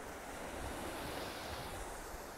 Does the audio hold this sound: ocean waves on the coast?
yes